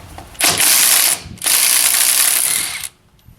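An air impact wrench set to its third speed breaks loose rear brake bolts on a 2004 Chevy Silverado, heard as two long, loud rattling bursts separated by a short pause, with no talking.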